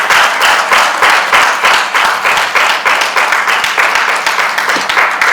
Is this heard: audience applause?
yes